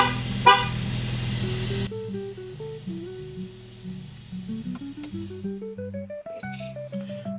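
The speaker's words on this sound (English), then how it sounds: "Let's see if the horn works" A BMW E90 horn blares in one loud, steady honk for nearly two seconds, then stops, leaving quieter tonal sounds in the space that follows.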